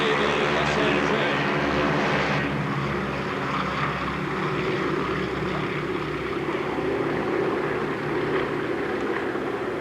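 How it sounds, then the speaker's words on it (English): A yellow Harvard propeller trainer with U.S. markings flies past at an airshow, its engine a loud, steady, rough drone that carries through the whole stretch with a slight shift in tone partway through. "Colin Chase on the far side in the yellow Harvard with the U.S. markings"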